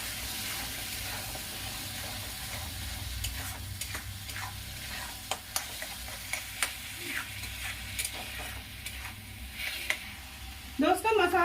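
Tomato masala with two spoons of salt sizzles and fries steadily in a pan, a low continuous crackle punctuated by sharp spoon clinks and stirring scrapes toward the end.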